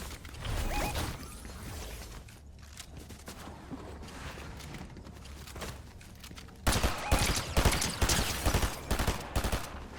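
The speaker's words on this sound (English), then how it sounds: "That thing shooting at me to my right is an AI." Rapid gunfire from an AI enemy in Fortnite Zero Build, Chapter 7 Season 2, rattles continuously, then grows louder and denser with sharp bursts in the second half.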